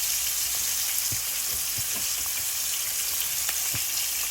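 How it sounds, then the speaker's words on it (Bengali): Onion, ginger and garlic sauté in a pan with a constant close, bright sizzle of hot oil, broken by occasional soft stirring taps, no talking. "পেঁয়াজ আদা রসুন ভালো করে কষানো হয়ে গেছে"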